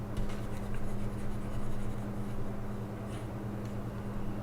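Pen or pencil writing a word by hand on paper, a soft continuous scratching that stays faint and steady under a low constant hum, with no voices.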